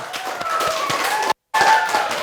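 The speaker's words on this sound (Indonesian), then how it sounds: "Beri aplaus sekali lagi buat kelompok 2" Classroom audience clapping for a student group after their presentation, a steady patter of hands close by with a brief cut of silence midway, with a faint tonal hum underneath.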